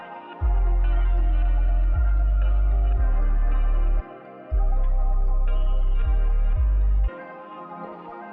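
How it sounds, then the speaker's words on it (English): Guitar run through a chain of multiband processing, EQ, cassette saturation, downsampling and chorus, sitting in a full beat with heavy bass hits that drop out and return; continuous music with no talking. "So anyways, I processed the guitar using this little chain here,"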